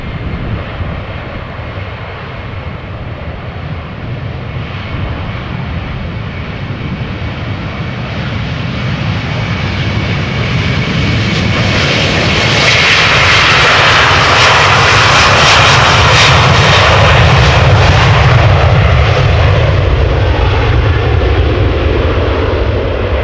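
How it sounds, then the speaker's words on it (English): Jet engines of a Delta Airbus A330-300 thunder as it departs Amsterdam Schiphol, a deep roar swelling from a steady rumble into a loud, hissing blast near the midpoint and holding strong to the end, with no voices. "Delta Airlines flight 71, A330-300 outbound to Atlanta, Georgia"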